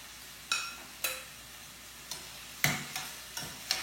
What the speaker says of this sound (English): I'm not gonna saute this too much longer, just a little bit, enough so it will give it more flavor